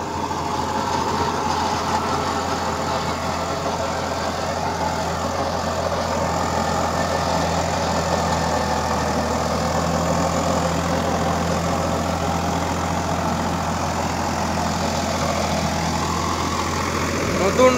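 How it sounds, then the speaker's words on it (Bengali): A Swaraj 744 XT 4WD tractor pulls a new Swaraj rotavator through soil, its engine droning steadily and loudly with a rough grinding growl from the rotavator gearbox running continuously under it, close by. "একটা সাউন্ড হচ্ছে এই গিয়ার বক্স থেকে গ্যার গ্যার করে"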